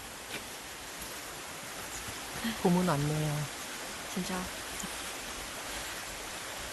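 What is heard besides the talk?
mountain stream water flowing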